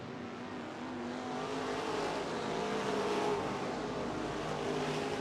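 Race cars at King of the Creek VI at 141 speedway drone steadily around the racetrack, a continuous loud engine roar that swells slightly midway, with no talk.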